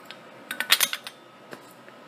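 Metal dish drainer part on a steam-powered show bike being handled, giving a quick cluster of light metallic clinks and rattles followed by a single faint tap, close and alone.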